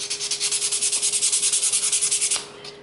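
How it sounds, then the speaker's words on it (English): Rhythmic back-and-forth rubbing of sandpaper on painted wood, about twenty quick even strokes, close and clear, then stopping. "And I'm going to lightly sand."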